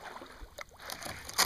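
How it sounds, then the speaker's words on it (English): A kayak pushing through thin ice on the NE Cape Fear River in snow, with faint crunching and scraping that ends in a louder crackling burst, close by with no voices. "Kayaking through the ice right there."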